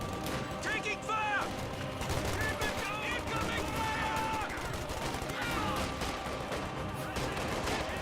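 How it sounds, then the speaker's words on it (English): Volksgrenadier squads firing from heavy cover in Company of Heroes 2, a dense, continuous rattle of rifle and machine-gun fire with overlapping bursts across the battlefield, mixed with other game sounds at a steady loud level. "Volksgrenadiers firing away from some good heavy cover"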